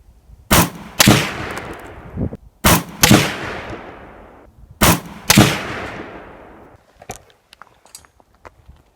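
A PSA AK-47 rifle fires at a target outdoors: six loud, sharp gunshots in three close pairs, each followed by a decaying echo, then quieter small clicks and handling noises at the end.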